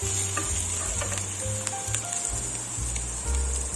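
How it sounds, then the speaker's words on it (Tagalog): Chopped onion sautéing in a hot pan for fried rice, a steady close sizzle with faint scraping stirs and a low background hum running underneath, no voices. "Saute your onion."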